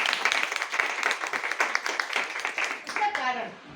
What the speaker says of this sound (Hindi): सबके लिए एक जोरदार तालियां